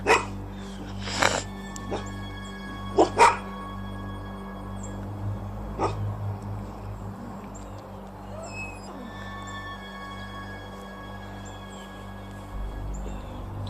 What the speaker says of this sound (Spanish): incluso el perro empezó a reaccionar ante ella, ladrando y observándola desde una distancia segura